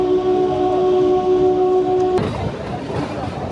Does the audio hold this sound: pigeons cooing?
no